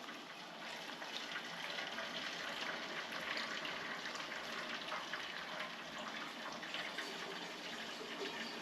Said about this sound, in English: So what I'm going to do now is to pour the Mixto and sugar through the apples.